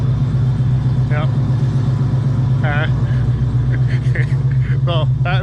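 A car engine runs steadily at a low idle-like hum throughout, loud and close, while someone talks over it in short bursts.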